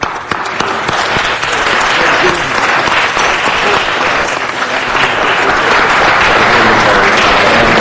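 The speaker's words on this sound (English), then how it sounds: "Please join me in a round of applause for the Ambassador." A crowd at a city council meeting applauds an African Union ambassador, dense sustained clapping that fills the room loudly from start to finish, with faint voices underneath.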